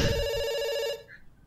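A telephone bell in a video game rings in one trilling burst that stops abruptly, leaving quiet background noise.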